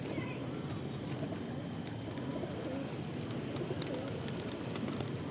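Pigeons cooing on a rooftop at night, a steady low murmur of calls blended with faint chirps and constant background hum, continuous throughout with no clear breaks.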